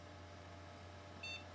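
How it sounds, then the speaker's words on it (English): A custom water-cooled desktop PC giving a single short, faint electronic power-on beep near the end, over a low steady hum from the running machine. "After you hear the beep, you kick on the hard drive."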